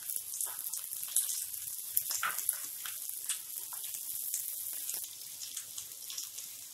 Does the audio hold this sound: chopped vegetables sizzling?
yes